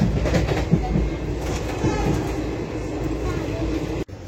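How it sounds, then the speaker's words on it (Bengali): Bamanhat Express local train moving off from Banarhat station in North Bengal, a continuous rolling rumble with faint clatter heard from nearby, ending in a brief sharp knock. "বামনহাট এক্সপ্রেস করে এসেছিলাম, ট্রেনটা অলরেডি চলে যাচ্ছে।"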